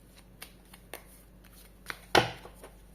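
A few soft riffles of tarot cards being handled, then one louder quick shuffle burst near the end, close and quiet.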